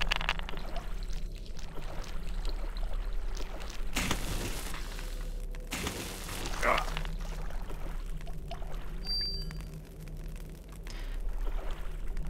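Water sloshing and splashing in the video game HROT, with steady pouring and rushing water, a couple of louder splashes midway, and someone talking over it.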